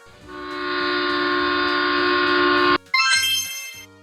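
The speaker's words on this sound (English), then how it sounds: "A heritage train is an old train kept for tourists." A heritage train sounds a long, loud, steady horn blast that cuts off abruptly, followed by a brief higher, stuttering horn or bell-like tone.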